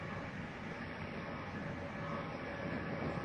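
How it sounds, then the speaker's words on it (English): Inside a moving train, a steady broadband rumble and rush of the carriage on the rails, continuous and fairly even, heard from within the car with no talk. "I'm on a train."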